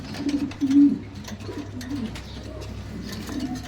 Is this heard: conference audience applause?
no